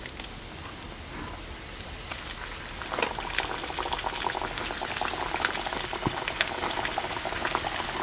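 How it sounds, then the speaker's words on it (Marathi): Pieces of rohu fish, prepared village-style for a crisp fry, bubble and crackle in hot oil in a steady close seething hiss that swells slightly partway through, with sharp pops and no talking. "राहिलेले सुद्धा आहे ना आपण मच्छी असंच तळून घेऊया"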